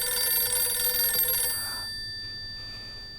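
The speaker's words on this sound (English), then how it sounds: "Pick up that fucking phone. Jesus Christ, that sound." A telephone rings in the horror video game Silent Hill f, a loud shrill bell for about a second and a half, then cutting off and leaving a fading electronic tone.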